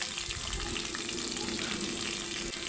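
Chopped onions and three or four green chilies fry in hot soybean oil, sizzling steadily and close at a low level, with light stirring scrapes underneath.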